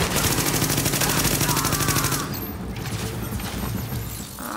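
Shotgun fire in the video game The Division, a loud, dense stream of rapid blasts for about two seconds before dropping to a quieter, rumbling background.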